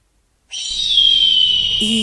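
A drawn-out, high-pitched bird cry standing in for an eagle's call, one sustained shrill note lasting about a second and a half, loud and close, with no talk over it.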